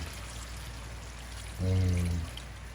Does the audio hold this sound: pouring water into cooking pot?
yes